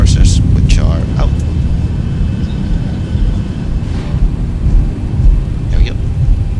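Thrust reversers on a Boeing 737-800 roar during landing rollout in X-Plane 12, a steady loud broadband rush with rumbling low end, while someone talks over it.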